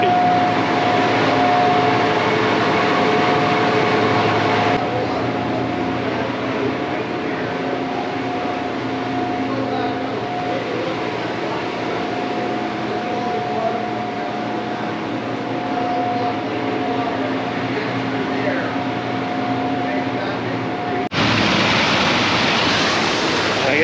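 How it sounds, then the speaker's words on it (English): Water rushes from a power plant outflow as a loud, steady roar of broad noise that holds unbroken throughout, with no voices. "the water escapes the power plant"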